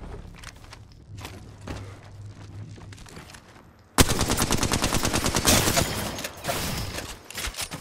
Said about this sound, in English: Smart bullet firing.